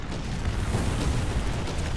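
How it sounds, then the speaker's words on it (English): Artillery shell explosions in War Thunder custom battles with armored cars and trucks, a steady rumbling broadband roar of blasts lasting a couple of seconds, loud and close, with no talk. "that artillery is still messing me up"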